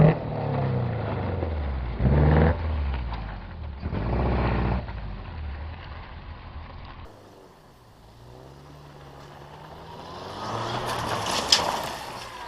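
A car reversing and flicking into a motorkhana finish garage, engine revving in two distinct bursts, then quieter idling and a rising mechanical whine at the end.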